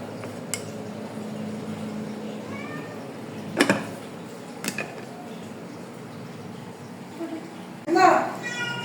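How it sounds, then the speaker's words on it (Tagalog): Cats in heat meow and yowl a few times, drawn-out cries spaced apart over faint background noise, with a louder one near the end. "may mga pusa lumalandi"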